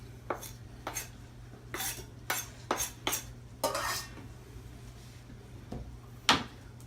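A utensil stirs chopped green onions into cooked egg noodles in a pot, giving a series of sharp metallic clinks and scrapes at irregular intervals over a steady low hum.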